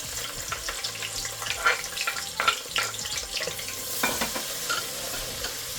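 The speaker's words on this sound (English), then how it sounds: "Alrighty, so our oil is hot enough, so what I want to do now is I am going to add my onion." Chopped onion hitting hot oil for an eggplant stew, a steady close sizzle with scraping stir strokes and a few sharp clatters of the spoon against the pot, no talk.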